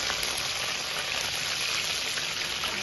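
Green chillies and curry leaves fry in hot oil for a chicken curry, a soft continuous sizzle with fine crackles and a few pops, steady and close by.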